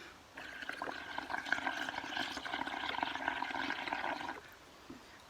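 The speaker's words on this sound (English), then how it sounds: "Same thing, you're gonna blow bubbles. Listen to the noise too" Air is blown through a straw into a dish of blue paint mixture for bubble printing, making a steady burbling gurgle that lasts about four seconds and then stops.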